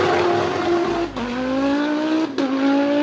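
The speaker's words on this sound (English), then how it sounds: "The legendary Audi 5-cylinder has no match." An Audi five-cylinder engine revs hard in quick bursts, a loud rising rasp broken by two brief gear-change dips, close and alone with no talk.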